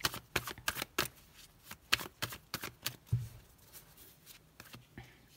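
Tarot cards shuffled and laid out on a table, a close run of sharp papery snaps and flicks at an irregular pace, then softer taps as cards are placed, no talking.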